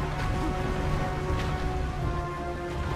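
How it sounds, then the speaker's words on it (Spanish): A titan's meteor shower attack in Castlevania: Lords of Shadow 2 produces a dense, continuous roar of crashing impacts, loud and unbroken for the whole stretch with occasional sharper bursts. "Nos hace aquí ahora, mira, lluvia de meteoritos."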